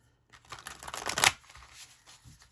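A deck of tarot or oracle cards being shuffled by hand, a close burst of riffling and flicking that builds to a sharp peak, then softer scattered card sounds trailing off.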